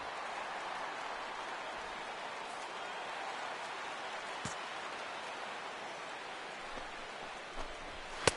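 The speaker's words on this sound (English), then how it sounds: "And this rain is intensifying now. This is as hard as it's come down all night." Heavy rain pours steadily over a baseball stadium in MLB The Show 16, a dense, even hiss with faint scattered taps, continuous for the whole stretch.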